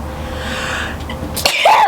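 A woman's single sneeze, a sharp breathy inhale building for about a second and then a sudden loud burst, followed by a short vocal exclamation.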